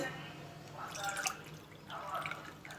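Water splashes into a hot pot in two brief pouring bursts while cooking a sweet porridge, moderately close, over a quiet low hum.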